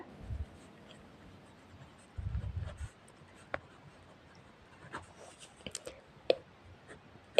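Pen or chalk writing out a math solution by hand, with scattered soft scratching strokes and taps, two brief louder bursts of rubbing, no voice.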